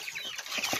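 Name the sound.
chicks peeping, young chickens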